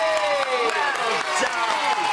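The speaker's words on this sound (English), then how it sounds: "Have a huge cheer for Three Liveries!" A television studio audience at a children's Christmas special cheers and whoops, with high excited voices rising and falling in a dense, loud burst close by.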